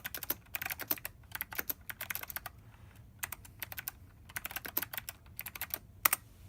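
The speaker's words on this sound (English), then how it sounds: "This keyboard is great for typing" Someone types on a tactile, clicky computer keyboard in quick bursts of crisp key clicks separated by short pauses, close and clear with no voices.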